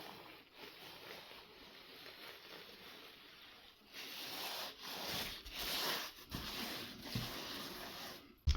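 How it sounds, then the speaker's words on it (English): Clay and sand plaster is scraped flat on a wall, making a continuous low rubbing, rasping sound that grows louder in the second half, with no talking. "and then we will scrape it again to make it even more flat"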